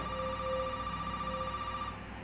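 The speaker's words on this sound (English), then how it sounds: "I'm gonna pick up the phone now" A telephone rings in the video game Resident Evil 7, a steady electronic ring tone over a low ambient hum, alone without talk and fading at the end.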